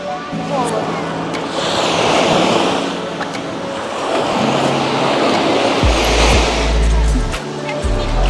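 Surf rolling onto a beach at Odesa's Black Sea shore, with broad washing swells and loud low-frequency bursts that sound like wind buffeting the microphone.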